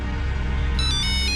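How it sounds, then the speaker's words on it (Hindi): A telephone rings with a bright electronic tone, entering after a short moment of low background hum and repeating in brief pulses. "अब किसका फोन आ गया?"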